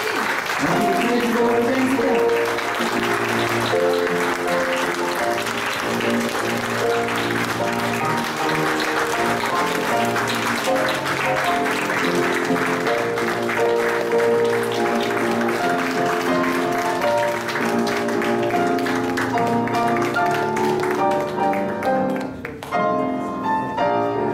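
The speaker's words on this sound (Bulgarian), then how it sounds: "Моля силни аплодисменти за най-важните свидетели, кумовете" Wedding guests at a romantic ceremony in a seaside casino hall applaud the best man and maid of honour, a loud, sustained wash of clapping running steadily for over twenty seconds with music-like tones mixed in, fading near the end.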